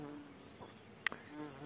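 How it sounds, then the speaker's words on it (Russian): Bumblebees and flies hover around flowering viper's bugloss in a field on a June morning. A soft, faint insect hum drifts through, broken by a brief sharp click. "И на нем летают и шмели. Вот такие огромные шмели"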